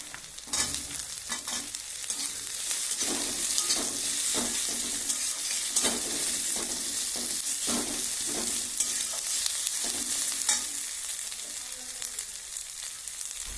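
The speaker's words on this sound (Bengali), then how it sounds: "আলু দিয়ে দেব," Potatoes frying in a pan with onion, ginger and garlic, a loud continuous sizzle under repeated scraping stirs of a spoon, close and without speech.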